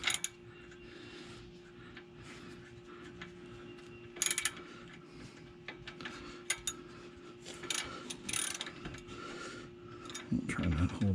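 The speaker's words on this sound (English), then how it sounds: "Get my wrench in here." A ratchet wrench turns a 15 mm bolt on the rear shock of a Ford Freestar or Windstar minivan, heard as scattered, irregular clicking and metallic bursts over a quiet garage background, with a few louder clanks near the end.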